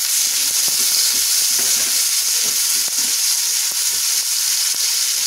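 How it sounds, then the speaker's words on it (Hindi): Potatoes and tomatoes fry in a pan for a vrat recipe, giving a steady, close sizzle with soft stirring scrapes and taps throughout. "आलू को मैं एक साइड में कर देती हूँ और एक साइड में मैं टमाटर डाल दूंगी।"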